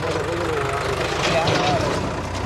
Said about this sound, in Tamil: வேலையா போகிற இந்த டிராக்டர் போகுது